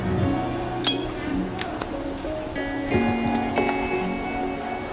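Palm fruit cake batter whisked in a bowl, with quick clinks and taps of the utensil against the bowl, close and fairly quiet.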